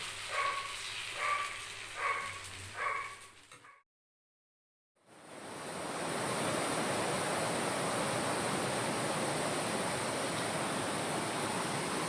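Chamatka mini waterfall roars as a steady, loud broadband rush of falling water, following a brief stretch of rhythmic dog barking and a short silent gap.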